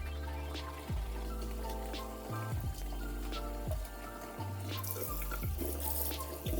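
Tap water running steadily into a sink being filled with water and a little detergent for washing dyed clothes, a continuous close splashing gush with a few brief pauses and bursts.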